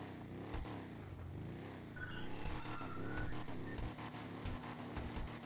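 A car engine in a video game, a low continuous drone rising and falling with revving, faint tire squeal and skidding, fairly quiet and steady throughout.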